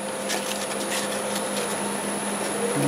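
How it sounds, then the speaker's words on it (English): A wooden bowl spins on a lathe at about 600 RPM in reverse while 150 grit sandpaper is held against it, giving a steady, close, continuous whirring hiss with a faint constant whine and no talking. "I'm going to go ahead and sand it with one 150 grit."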